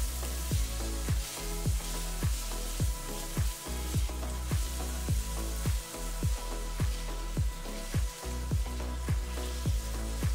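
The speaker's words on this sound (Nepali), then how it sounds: "पाँच मिनट जस्तो प्याजलाई चलाउँदै भुटिसकेपछि यो खैरो हुन थालेको छ" Finely chopped onions with green chillies frying in a pan for Nepali mutton gravy, a steady sizzle broken by regular, evenly spaced stirring scrapes, close and fairly loud with no talk.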